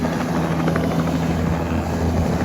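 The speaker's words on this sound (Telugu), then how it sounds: "అదే, హెలికాప్టర్ అదే." A helicopter over New York City makes a steady, loud rotor drone with a deep throbbing hum, close and continuous throughout.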